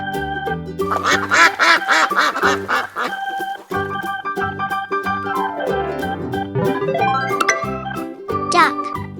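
A duck quacks over a bouncy children's music track, the calls near and fairly loud, several quacks in quick succession partly blended with the melody.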